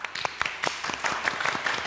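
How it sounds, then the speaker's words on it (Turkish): Women in a studio audience clap for a contestant, a short burst of separate, fairly close claps in a loose irregular rhythm. "Ömer Faruk Bostan için bir alkış alabilir miyiz hanımlar?"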